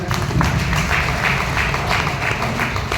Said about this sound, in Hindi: चलिए सर की याद दिलाए पर जोरदार ताली।